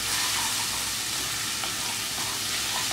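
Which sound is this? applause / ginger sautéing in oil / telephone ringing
ginger sautéing in oil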